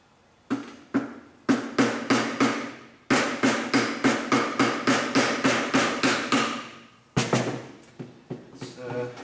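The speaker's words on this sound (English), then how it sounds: "put it right in here, give it a couple of good whacks" A hammer strikes a stuck front fork part from a 1990 Honda XLR250R motorcycle in a long series of sharp, loud metallic whacks. Short bursts give way to a steady run of evenly spaced blows, then a few more hits.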